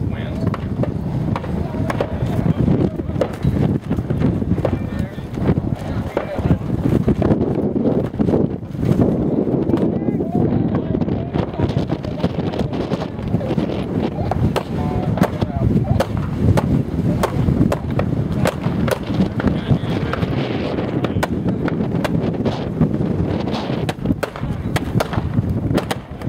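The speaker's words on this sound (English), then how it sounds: "The wind was horrible at this match, by the way. 30 to 40 mile an hour gusts of wind." Strong gusting wind, 30 to 40 mph, buffeting the microphone at an outdoor multigun shooting match, a constant rough roar with surging gusts and clattering noise, someone talking over it throughout.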